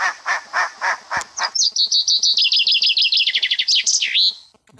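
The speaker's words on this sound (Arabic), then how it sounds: "اصوات عصافير واصوات كل الحيوانات." Recorded bird chirps and tweets triggered from a sound pad in a Sudanese music set, starting as a few separated calls, then running into a rapid string of bright trills and a final swooping whistle, loud and close.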